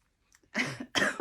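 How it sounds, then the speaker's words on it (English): A woman with a cold gives two short, close, chesty coughs in quick succession after a brief silence, with no talk over them. "my cold's still got a bit of a cough as well"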